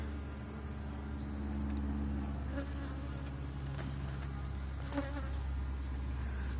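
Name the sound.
bees buzzing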